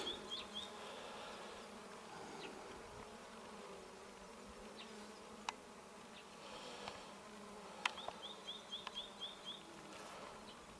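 Honey bees returning to the hive carrying pollen loads, a continuous close buzzing hum with occasional soft clicks and faint bird chirps in the background.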